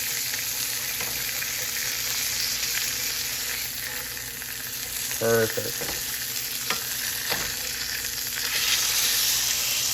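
Burger patties sizzle steadily in a hot pan, a constant loud crackle with a few scraping clinks partway through; a voice speaks briefly.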